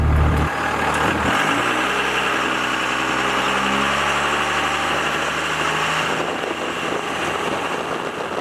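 A 24-valve Cummins diesel truck engine idles steadily before a drive, a continuous low rumble that holds close and loud throughout with no talking.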